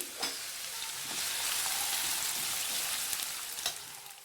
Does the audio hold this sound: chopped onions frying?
yes